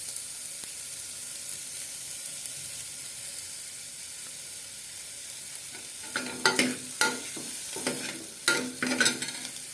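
Steady background hiss, then from about six seconds a run of sizzling, scraping stirs as green chilli and chopped eggplant are sautéed in a pan, several loud bursts in close succession.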